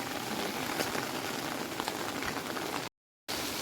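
Rain falling in the hills, a steady, faint patter of raindrops hitting surfaces, continuous with a brief dropout near the end and no voices.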